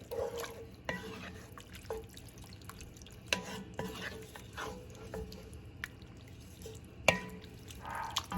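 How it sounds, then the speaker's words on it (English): A keto stuffed bell pepper casserole mixture is stirred in one pot as it heats toward a boil. A low bubbling bed sits under soft, intermittent scrapes and clinks of the spoon, close and without talk. "we're gonna mix this up until our mixture comes to a boil"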